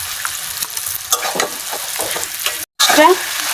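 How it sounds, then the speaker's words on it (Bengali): Fish heads go into sizzling spice masala in a pan, with loud, close crackling and scraping of a spatula stirring in quick strokes, a brief dropout, then a fresh burst of sizzle. "আমার মশলাটা কষানো হয়ে গেছে এখন মাছের মাথাটা দিয়াম"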